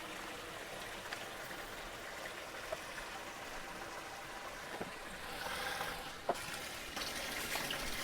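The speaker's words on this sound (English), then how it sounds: "That hose fills fast." Cold water from a food-safe garden hose pours into a home brewing kettle, a steady rushing splash at moderate level with a few small knocks and clinks along the way.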